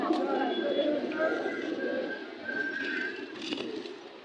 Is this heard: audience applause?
no